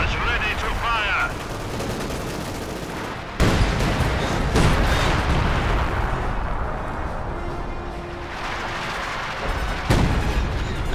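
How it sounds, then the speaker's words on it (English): Artillery and gunfire in the World War II strategy game Company of Heroes 2, heavy booms and rattling shots layered into a dense, loud battlefield roar, with sharp blasts cutting in near 3.5 and 10 seconds. "looks like we're seeing artillery up here for Starkiller"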